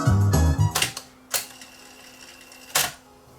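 Mechanical clunks and clicks from the tape transport of a Pioneer CT-F8080 cassette deck switching between modes, a cluster of sharp snaps at first, then two isolated clacks separated by a quiet hum.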